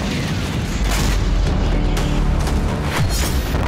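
Explosions from Israeli strikes in a Lebanese village: several deep booms and blasts, one after another, rumble over a constant noisy background, heard from some distance.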